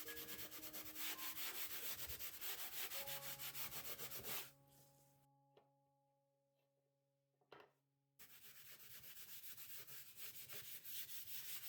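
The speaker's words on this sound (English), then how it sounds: "I have a rag that I'm just going to dip into the wax and get some on, and then just rub it onto the top of the board." A rag rubs wax onto the top of a wooden farmhouse sign board in quick, steady back-and-forth strokes, close and scratchy, pausing for a few quiet seconds with a low hum before the rubbing resumes.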